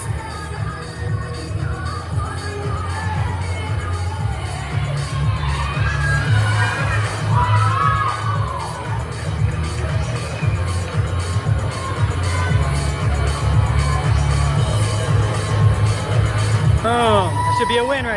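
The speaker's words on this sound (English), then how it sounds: "And the crowd goes wild." A large crowd at a cheerleading competition cheers and shouts wildly, with children's high-pitched yells rising through a steady, loud roar of voices that swells and holds throughout.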